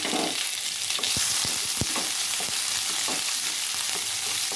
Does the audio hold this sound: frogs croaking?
no